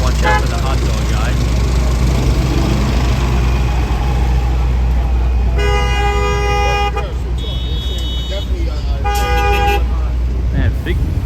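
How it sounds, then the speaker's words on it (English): Car horns honk repeatedly in a Midtown Manhattan traffic jam at night, with several long blasts rising over steady engine rumble and loud street noise, and people talk nearby. "big traffic jam tonight"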